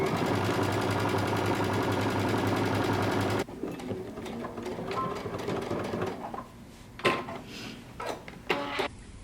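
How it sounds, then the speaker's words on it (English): A sewing machine runs steadily for about three seconds, stitching a jumpsuit fly seam at a 5/8-inch seam allowance, then stops, leaving softer handling clicks and rustles of fabric. "And we're going to stitch using 5/8 of an inch seam allowance."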